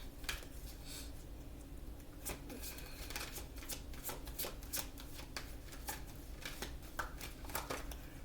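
A deck of oracle cards being shuffled, giving repeated crisp riffling bursts and flutters that stay steady and fairly close over low background hum, with no talking.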